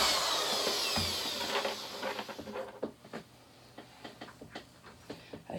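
A power drill drives a screw into pegboard with a whirring whine that winds down after a couple of seconds, followed by close, scattered clicks and taps.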